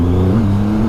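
A 2020 Triumph Rocket 3 GT motorcycle's big engine drones loud and close as it accelerates, a steady throaty hum that holds and edges slightly higher over a single second, with no voices.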